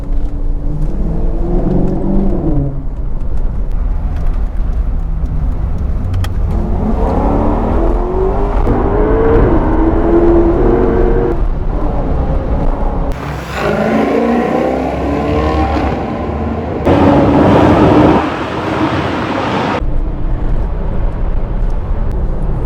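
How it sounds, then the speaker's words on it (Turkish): A Maserati GranTurismo S in sport mode accelerates hard through a tunnel on a rainy day. Its loud engine roar climbs in pitch through repeated surges, with a sharp, brighter burst of revs near the end. "Tünelde bir hafif bir gazlama yapalım. Hızlanmasına bakalım."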